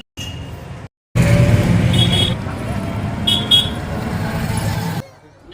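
An e-rickshaw (toto) rides through busy road traffic, with a continuous engine and road rumble, a few short horn toots, and a brief gap near the start before the noise fades at the end.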